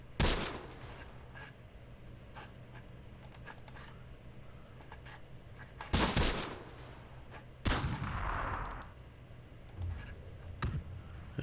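Gunfire and artillery in the Close Combat: The Bloody First wartime strategy game, Sicily campaign: scattered sharp shots and several heavier booming impacts over a steady low battlefield rumble, heard without talk.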